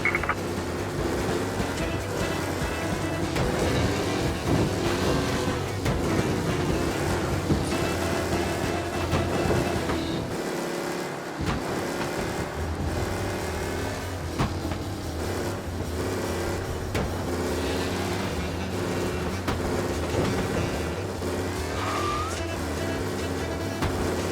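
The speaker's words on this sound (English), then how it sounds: "we got a race car driving at speed" A race car races at speed in the Mafia Definitive Edition video game, its engine droning steadily and loud for the whole stretch, briefly dipping near the middle, with faint game chatter mixed in.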